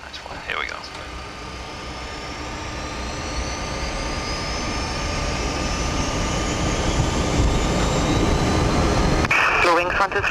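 BAe 146-300 jet engines on runway 18 spool up to takeoff thrust, a loud whining roar that builds steadily across the run, with brief radio chatter at the start and end.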